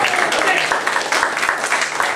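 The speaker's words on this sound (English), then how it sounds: "Give him a round of applause" Audience applause for a child volunteer at a magician's show at an arts festival, a steady, dense patter of clapping filling the moment with no voice over it.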